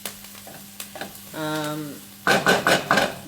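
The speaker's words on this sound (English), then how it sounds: "I'm just frying off my onion nicely" Onion fries in oil in a pan, a steady soft sizzle as a spoon stirs it and scrapes the pan, ending in a few louder clattering stirs.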